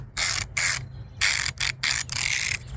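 Retractable ratchet strap webbing being pulled out, a series of rapid ratcheting bursts, five or six close, loud rasping pulls separated by short gaps.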